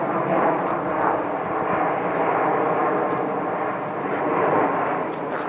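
Etihad Airways Boeing 787-10 airliner descending overhead above Windsor Great Park, a steady broad roar of jet engines that swells and eases slightly, loud and continuous throughout without talk.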